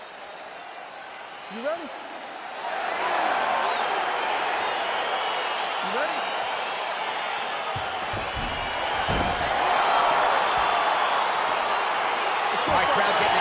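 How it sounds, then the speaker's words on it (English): An arena crowd in the UFC 4 video game swells into a broad roar of cheering before a fight, rising partway through and staying loud, while a voice speaks over it. "crowd getting excited as this fight gets underway"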